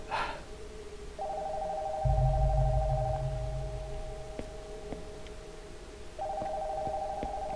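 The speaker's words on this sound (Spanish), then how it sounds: "el teléfono de arriba está sonando" A telephone upstairs in the horror game Nocturnal Visit rings in two long electronic bursts separated by a pause, with a low rumble and faint clicks in between, with no voices.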